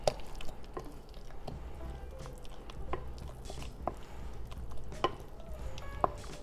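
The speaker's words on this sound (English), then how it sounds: "And let's just mix that all up nicely." A spoon working through a mixture seasoned with pumpkin pie spice, soft repeated scraping and squishing clicks at an irregular pace, quiet and close, no talking.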